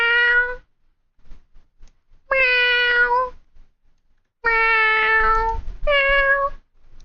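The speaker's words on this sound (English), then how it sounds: "Meow. Meow. Meow." A cat in the video game Genshin Impact meows four times in clear, close, tonal calls separated by short pauses, with the last two coming close together.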